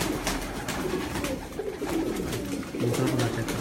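Large pigeons on a rooftop coo in low repeated throaty phrases, a steady close murmur of several birds with continuous background noise and no talk.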